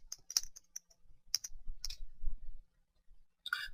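Bursts of clicky keystrokes on a computer keyboard come in short irregular runs with pauses between them, close and fairly quiet, while a command is typed in 3D modeling software, with no talking.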